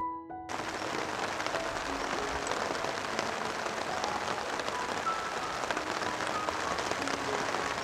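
Monsoon rain pours steadily in hilly Bangladesh countryside, a dense, even hiss of drops that starts abruptly and holds at constant strength throughout.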